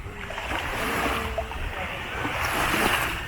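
Surf rolling onto the shore at Cala Laiya resort in Batangas, a continuous wash of waves with some wind rumble, fairly close and steady throughout.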